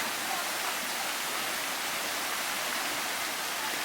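Steady, even rush of falling water from a dripping, flowing waterfall feature at Mtatsminda Amusement Park in Tbilisi, splashing continuously with no pauses.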